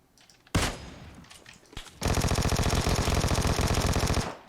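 An exotic Vector submachine gun in PUBG Mobile rips off a long, fast, evenly spaced burst of loud, close shots. A short blast and scattered noise come first, then the sustained fire runs for a couple of seconds before cutting off.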